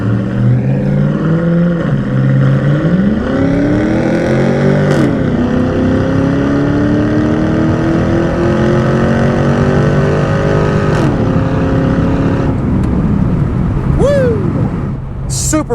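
A 2002 Pontiac Trans Am WS6 with a 5.7 V8 and automatic transmission accelerates hard through its gears. The engine pitch climbs loudly and drops at each shift, with someone talking over the roar.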